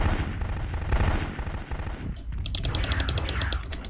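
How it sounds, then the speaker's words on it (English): Rapid machine-gun bursts from a battle mech in MechWarrior 2, a steady rattling stream of evenly spaced shots, loud and close, with faint electronic cockpit tones joining partway through. "I can't even tell if these machine guns are hitting"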